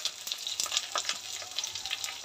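Curry leaves, ginger, garlic, green chilli and onion sizzle steadily in a pan, a dense close crackle with occasional stirring scrapes and no talk.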